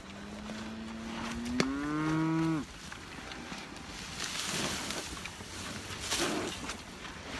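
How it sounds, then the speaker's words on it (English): A single loud cow moo from cattle in a feedlot pen, lasting about a second, followed by quieter outdoor ambience with wind and faint shuffling. "I swear I feed these cattle"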